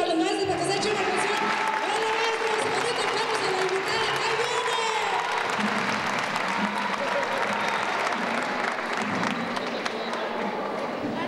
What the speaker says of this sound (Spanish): un aplausito para los maestros para que se echen una canción